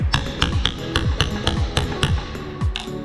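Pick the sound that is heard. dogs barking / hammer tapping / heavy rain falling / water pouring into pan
hammer tapping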